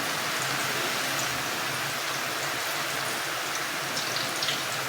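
Food sizzling in hot oil while club sandwich fries are being cooked, a steady, loud hissing crackle that continues unbroken throughout with no talk.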